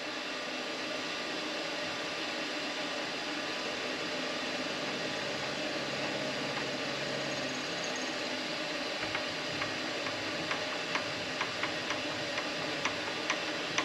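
A PM-25MV benchtop milling machine runs at 1000 RPM cutting nylon, a steady whirring motor drone with faint scratchy cutting, then light ticking chips toward the end, close and continuous without speech.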